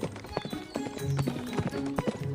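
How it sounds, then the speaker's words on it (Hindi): Rapid hoof clip-clops of a cartoon horse galloping away in fright, a quick irregular run of sharp knocks over a bouncy animated sound bed. "कालू शेर को देखकर घबरा जाता है और वहाँ से भाग जाता है"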